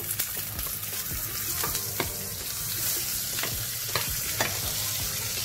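Butter sizzles and crackles steadily in a pan with cordon bleu frying, thyme added; close, moderate hiss with occasional sharper pops and clinks.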